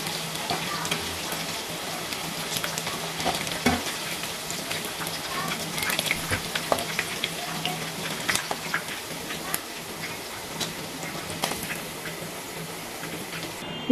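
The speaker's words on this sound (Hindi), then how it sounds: "इसी तरह ही हम अपने सारे चांप को फ्राई कर लेंगे। ये बैटर लगाते जाएंगे और फ्राई करते जाएंगे।" Battered mutton chaap frying in hot oil, a continuous close sizzle and bubbling with scattered pops and crackles throughout, no talking.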